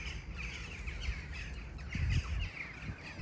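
Crows squabble in a rose garden on a Sunday morning in mid June, their harsh caws overlapping at a middle distance above steady outdoor background noise.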